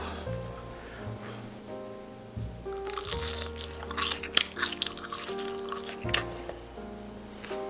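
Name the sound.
chewing crispy fried pork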